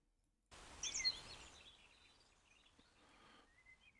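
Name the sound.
pet birds chirping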